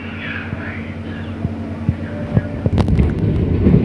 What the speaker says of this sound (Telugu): మెట్పల్ నుంచి స్టార్ట్ అయింది ట్రైన్ మనకి.